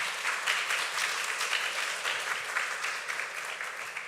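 A church congregation at a Sunday service applauds to bless the worship leaders, giving sustained, even, dense clapping from many hands throughout.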